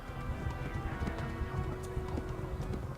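Horse hooves clip-clop steadily in the medieval video game Kingdom Come Deliverance, a continuous near rhythm of muffled hoofbeats over a busy low rumble of movement, with no one talking.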